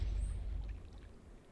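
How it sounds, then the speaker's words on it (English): Soft, steady water ambience in the strategy game Beyond All Reason, a low continuous wash that stays faint and even throughout with no other distinct events. "There's like water sounds."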